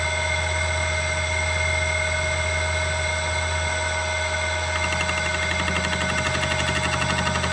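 An old stationary engine idles steadily at about 800 RPM, a continuous even mechanical drone with a faint rhythmic chuff growing slightly more pronounced toward the end.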